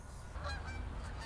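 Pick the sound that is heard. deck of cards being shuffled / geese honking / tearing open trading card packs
geese honking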